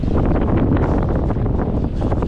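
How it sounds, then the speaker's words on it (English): Strong coastal wind at Kairakau beach buffeting the microphone, a loud, constant roaring rumble with gusty swells and no other sounds. "you have to deal with this wind quite a lot"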